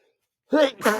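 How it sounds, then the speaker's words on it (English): A single sneeze bursts out close by after a moment of silence, a sharp two-part breathy outburst. "Sorry, I'm gonna sneeze."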